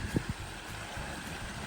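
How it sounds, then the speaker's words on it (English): Water flows over a backyard pondless waterfall in Snellville, Georgia, a soft steady trickling rush with a couple of brief low thumps near the start. "the Pondless Waterfall"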